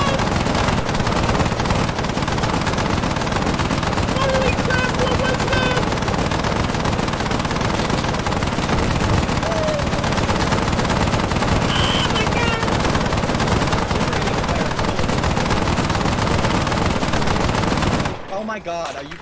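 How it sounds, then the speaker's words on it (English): Sustained automatic gunfire rattles loud and close in Arma III combat, dense bursts running almost continuously before cutting off near the end, with faint speech underneath. "I mag dumped that guy and it didn't hit him a single time"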